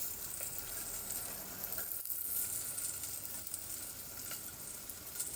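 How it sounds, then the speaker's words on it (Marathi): Onion sautéing with garlic in a pan for a traditional besan pithla, a soft continuous sizzle with faint stirring scrapes, steady and fairly quiet throughout. "मस्त असं कांदा परतून घेऊ"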